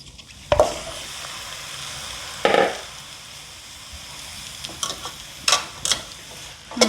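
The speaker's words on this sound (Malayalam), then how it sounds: "നന്നായി എല്ലിലേക്ക് മസാലയെല്ലാം ഒന്ന് ഇളക്കി യോജിപ്പിക്കാം" Bones get stirred with masala in a hot pan for Kerala kappa biryani: soft steady sizzling broken by a few sharp scraping knocks of a spoon against the pan.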